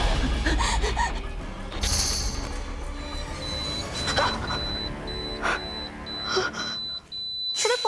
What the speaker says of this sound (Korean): 휴대폰에서 나는 호출 알림 소리에 잠에서 또 깼어요